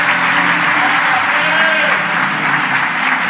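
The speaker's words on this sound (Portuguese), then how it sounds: "Pastor Eduardo, vem cá, quero que o povo receba o Senhor com bastante palmas para Jesus." A church congregation claps steadily to welcome the pastor, a dense, loud wash of applause filling the whole stretch with faint voices mixed in.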